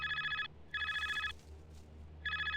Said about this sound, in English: Oh yeah, that was the phone.